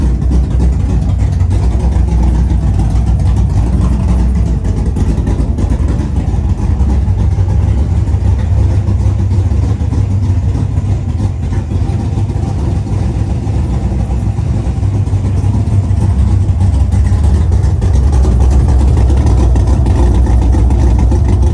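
The V8 in a 1968 Ford Torino GT runs steadily, a loud, continuous low rumble at idle with a slightly uneven lope, close by and alone, with no voices over it.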